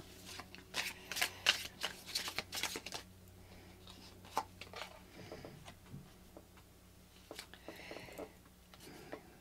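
A deck of cards is shuffled at close range, with quick bursts of riffling and crisp flicks in the first seconds, then scattered lighter snaps and taps against a quiet room.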